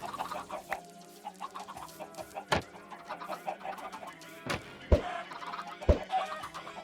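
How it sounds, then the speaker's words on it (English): Rhythmic chicken clucks repeat through a song's music, punctuated by several sharp percussive hits. "This song with the chicken clucks."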